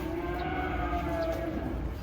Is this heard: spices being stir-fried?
no